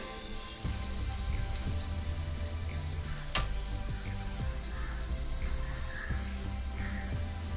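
Green pea cutlets shallow frying in a pan over medium heat, a steady crackling sizzle like light rain with intermittent low thumps and one sharp tap as they are turned, near and moderately quiet.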